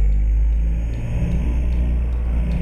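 A car engine drones steadily at a roundabout after a downshift, a close, heavy low rumble from inside the cabin that rises slightly as the revs build and holds without talk.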